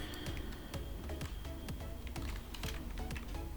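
Rapid keystrokes on a computer keyboard while writing a C calculator program in Turbo C, with sharp clicks scattered unevenly across the moment, close and steady, with no talking.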